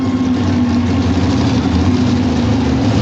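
NHRA drag racing engines at a 1994 national event, held just above idle in a steady, loud, deep rumble with no pauses.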